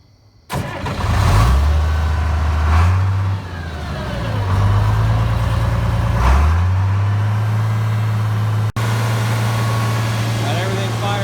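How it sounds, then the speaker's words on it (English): An old International 856 tractor engine cranks and fires up, catching and revving in surges before settling into a loud, rumbling idle close by, with a person talking over it. "I'm sure you guys have been waiting to hear this old 856 fire up"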